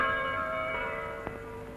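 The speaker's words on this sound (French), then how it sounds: "les cloches de notre basilique racontent à ceux qui savent les écouter" Church bells of the Saint-Victor basilica in Marseille ring, sustained tones and overtones decaying slowly, with a fresh strike near the end.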